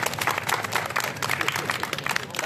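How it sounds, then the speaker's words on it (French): Audience at a magic show applauds a young girl volunteer, a dense steady wash of clapping carrying through the whole moment with a few voices mixed into the crowd noise. "On applaudit très fort Lilou"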